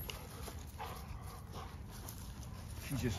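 A crazy, excited pet dog barking and whimpering indoors, mixed into a busy, noisy room with a person talking over it; yelps and whines come in short bursts, with a louder cluster near the end.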